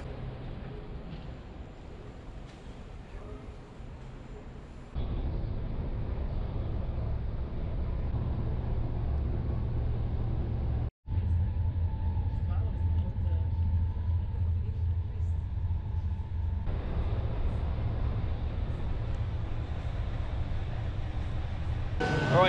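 Steady low rumble of a passenger train running to Lahti, Finland, heard from inside the carriage, continuous throughout with a brief dropout midway and faint voices underneath.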